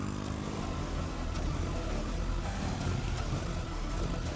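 A motorcycle engine drones steadily and loudly throughout, close by with no break, in a Hindi-dubbed South Indian movie.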